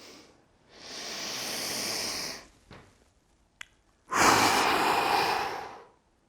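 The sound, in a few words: deep exhaling after holding breath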